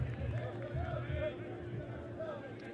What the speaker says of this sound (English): A lot of shouts for some different substitutions.